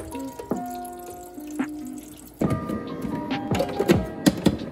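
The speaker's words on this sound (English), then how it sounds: "let's go ahead and get some water in the Keurig" Water splashes and gurgles into the reservoir of a Keurig coffee maker, starting with light trickles and clinks, then a steadier, louder pour close by near the end.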